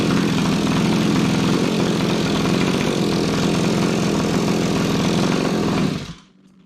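A small gas engine fitted to a converted Razor dune buggy runs steadily on its first start, a loud, rough, buzzing putter close by that holds for about six seconds before being cut and falling silent.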